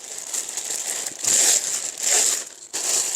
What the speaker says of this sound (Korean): 비닐로 감싸서 묶어준 다음에